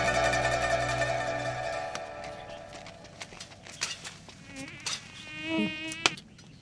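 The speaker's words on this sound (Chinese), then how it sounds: "现在天气稍微回暖，当然多蚊子了" Mosquitoes whine around people at a mountain temple in a period TVB drama as the weather warms. A steady insect drone is heard close by, with scattered knocks and hoof-like clops.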